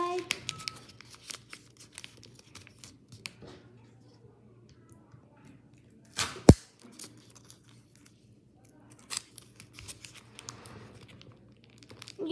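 Tape is handled and pressed onto a plastic water bottle, with scattered crinkles, soft taps and rustles plus one sharp rip-like crack midway, all close and fairly quiet, with some talking.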